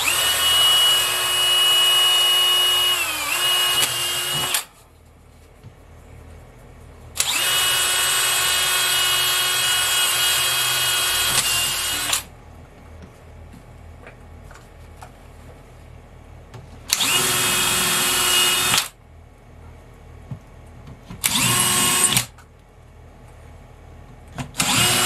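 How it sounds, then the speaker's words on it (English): A power drill whirs in several bursts, long high-pitched runs and then shorter ones, with quiet gaps between as a 1/8-inch bit bores pilot holes into wood. "I'm gonna start by drilling pilot holes on all four of these with a 1/8 bit"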